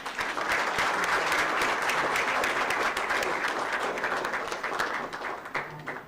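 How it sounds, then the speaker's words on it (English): A round of audience applause at a regional committee meeting in Africa, a thick, even wash of clapping that holds steady for about five seconds and then thins out toward the end, with no voices over it. "May we give another round of applause?"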